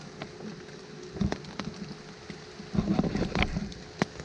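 Scattered raindrops patter on a taut tent surface close by, soft irregular taps over a quiet steady background.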